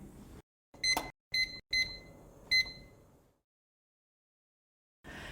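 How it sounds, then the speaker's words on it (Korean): Several short electronic beeps from a kitchen timer set for three minutes while boiling ramen, quiet and close, in an irregular run with brief pauses, then silence. "타이머를 사용하겠습니다"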